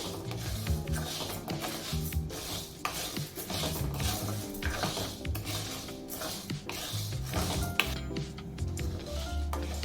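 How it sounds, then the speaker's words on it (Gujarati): Dry sago pearls roast in a pan over a medium gas flame while a spoon stirs them, making steady rhythmic scraping and rattling close up with little else audible. "ફક્ત થોડી વાર માટે 2 થી 3 મિનિટ માટે જ રોસ્ટ કરવાના છે, જેથી એમાં જે મોઇસ્ચર હોય એ નીકળી જાય."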